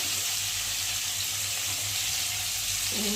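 Soaked chickpeas and potatoes frying in a pan, a loud steady hiss and sizzle close by that holds evenly throughout with no talking.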